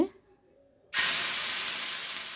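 Oil and dosa batter hit a hot tawa for a cucumber and beaten rice dosa, setting off a sudden loud sizzle after a quiet moment that hisses on steadily.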